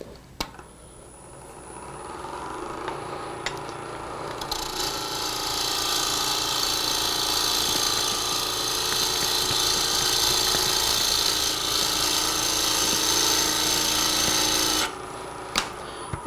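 A wood lathe spins as a bowl gouge cuts a turned piece, giving a sustained, fairly loud scraping hiss that builds and holds for about ten seconds before cutting off, with motor hum underneath.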